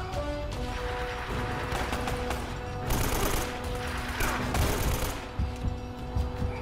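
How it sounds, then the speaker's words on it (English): Shotgun fire in the game Uncharted: Drake's Fortune, a dense, loud barrage of overlapping gunshots and bursts that swells and recedes over several seconds amid other combat noise. "Shotguns, man, those shotguns."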